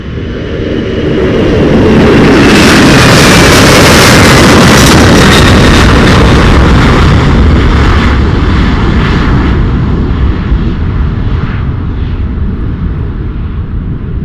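An Atlas Air Boeing 747-400F heavy jet takes off from Miami, a huge roaring engine rumble that swells over the first seconds and stays loud and thundering throughout, slowly fading slightly at the end.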